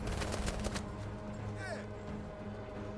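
A burst of rapid gunfire in the tactical game Menace rattles at the start, then fades into a dense, noisy battlefield wash with a brief whooshing sweep.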